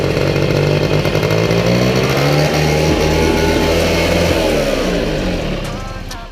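A Peugeot Trekker scooter engine, freshly fitted with a new piston and cylinder head, races at high revs with a loud, continuous buzzing drone close by that holds steady and then tapers off at the end.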